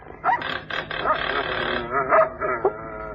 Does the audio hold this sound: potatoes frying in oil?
no